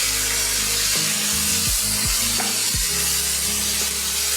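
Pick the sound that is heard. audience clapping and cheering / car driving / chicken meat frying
chicken meat frying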